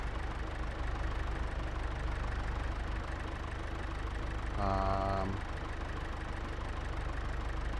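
A loader's engine in a farming video game drones steadily at a low idle throughout, with a brief tonal beep or horn-like blip near the middle.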